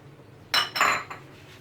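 A metal spoon knocks twice against a cooking pot while ginger-garlic paste goes in for a ridge gourd and mutton curry, two quick close clinks over faint kitchen background.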